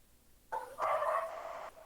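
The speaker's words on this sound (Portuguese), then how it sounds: "o cachorro" A dog barks in the background during a general chemistry class, a short yelp followed by a longer whining bark, faint and somewhat distant.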